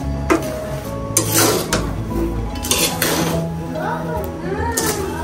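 Peanuts roasting in hot sand in a pan rattle and scrape as they are stirred, producing gritty clinks and scratchy bursts close by, while someone talks over the sound throughout.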